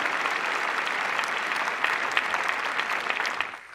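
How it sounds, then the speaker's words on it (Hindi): Loud, dense applause from a large audience for schoolchildren at a prime minister's interactive exam-stress session, sustained at full strength before tapering off at the very end. "एक बार जोरदार तालियां इन बच्चों के लिए"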